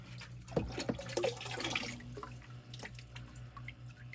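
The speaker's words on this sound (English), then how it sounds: "I'll get my hose so that we can finish topping it off" Water running from a garden hose to top off a reef aquarium tank, a splashing, gurgling flow that is loudest early on and then settles into a steady trickle.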